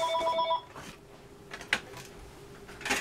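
A telephone in a craft room rings with a short electronic trill of evenly spaced tones at the start, then stops, leaving faint handling clatter.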